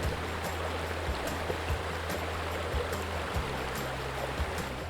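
A Dartmoor river runs over its bed in a continuous, close wash of flowing water, broken by faint low knocks and light splashes, with no one speaking.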